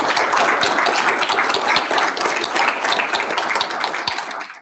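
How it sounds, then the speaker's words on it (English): Staff meeting audience applauding, a dense, steady wash of many hands clapping at close range that holds level for several seconds before tapering slightly at the end, with no voices over it. "Big round of applause for Janet,"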